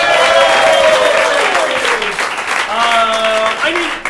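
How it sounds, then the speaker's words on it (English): A crowd claps loudly and continuously while a voice talks over the applause. "Give them a big round of applause."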